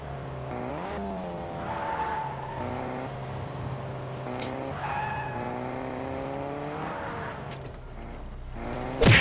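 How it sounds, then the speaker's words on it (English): A car in the video game Fortnite drives past with engine revving and tires skidding and squealing, the pitch rising and falling across several gear shifts, with a sharp impact at the very end. "Ooh, I hear a car."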